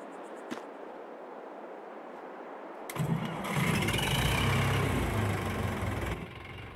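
A tractor engine in Farming Simulator 22 cranks and starts after a quiet opening, then settles into a loud, rumbling idle close by before easing down, with no talk over it.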